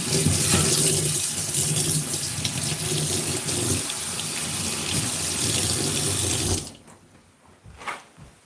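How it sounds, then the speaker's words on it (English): Kitchen tap water runs steadily into a sink while a knife is washed after cutting garlic chicken strips, a loud broadband rush that stops abruptly, followed by faint handling clatter. "I'm gonna give my knife a wash."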